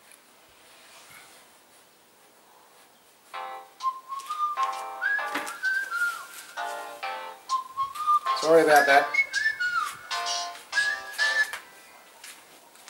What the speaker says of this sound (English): That's my alarm for 15 to 20 minutes